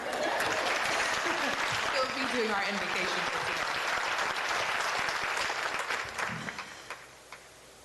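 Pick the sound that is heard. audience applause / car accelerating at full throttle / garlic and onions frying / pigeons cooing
audience applause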